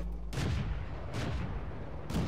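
A tank cannon firing in World of Tanks, heard as three heavy, booming shots spaced out and each followed by a low rumbling decay over a constant engine drone.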